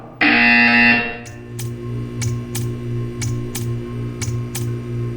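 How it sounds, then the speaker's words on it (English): A loud electronic buzzer in the video game Portal 2 blares for about a second, then stops; a steady hum continues with a series of faint, regular clicks. "You will hear a buzzer."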